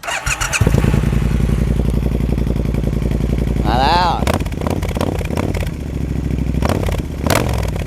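A Triumph Bonneville T120 motorcycle engine idles loudly, then revs sharply with crackling exhaust pops and bursts; a voice speaks briefly over the roar.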